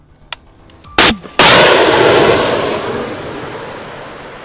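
A Javelin anti-tank missile fires with a couple of sharp small clicks, a loud blast and then a powerful roaring whoosh that slowly fades out into the distance outdoors.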